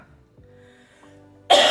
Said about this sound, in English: That looks like me right now, coughing.